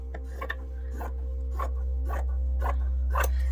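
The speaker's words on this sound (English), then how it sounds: "And then I'm just going to cut straight up." Fabric scissors snip straight up through a scrap of fabric in a quiet craft room, six evenly spaced crisp cuts close to the mic, each a short rasping bite over a low steady hum.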